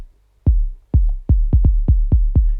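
A kick drum in a Lekompo beat plays alone, eight punchy booming hits after a short silence, falling in an uneven, syncopated pattern, loud and close with deep low-end decay.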